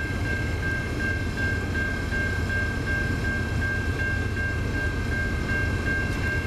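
A heavy CN freight train rumbles past steadily in Ladysmith with a constant low roar and a sustained high whine, loud and close throughout, no voices.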